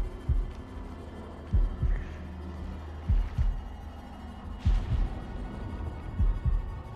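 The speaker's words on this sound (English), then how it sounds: "and I got a heartbeat" A heartbeat sound effect in the video game House of Ashes, deep paired thumps repeating at a steady slow rhythm over a low droning hum, loud and close, with no talking.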